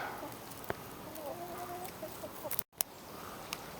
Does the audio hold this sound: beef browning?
no